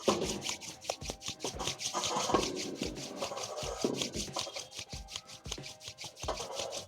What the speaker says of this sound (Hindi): अब दोनों हथेलियों को आपस में रब करिए।